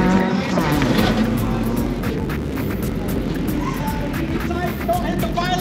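An orange race car sprints through a pylon slalom course at an ENEOS Super Sprint competition, its engine revving loud and close while an announcer talks over it.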